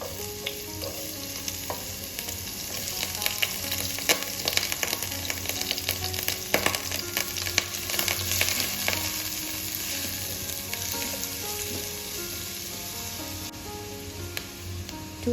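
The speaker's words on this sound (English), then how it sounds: "add 3 tablespoons of oil, after it's heated, add 2 medium-sized onions," Two medium-sized onions frying in three tablespoons of hot oil, a dense, continuous close sizzle with occasional stirring clatter and no talk.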